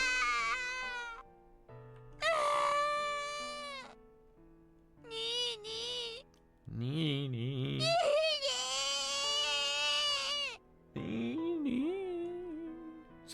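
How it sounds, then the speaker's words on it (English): Young girl Satoko in a visual novel game cries and screams in shrill, wavering wails, broken into several loud bursts with short pauses, the longest scream rising high and strained near the middle. "Satoko's screams echoed around the room."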